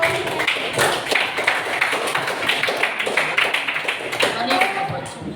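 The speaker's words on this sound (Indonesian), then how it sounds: "tepuk tangan dulu" A classroom of students claps together, a dense run of sharp hand claps at fairly close range lasting several seconds, with voices mixed in beneath the applause.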